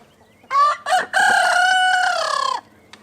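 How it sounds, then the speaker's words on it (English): Roosters crow nearby, loud and clear: two short opening notes, then a long drawn-out call lasting over a second. "as the roosters do their thing,"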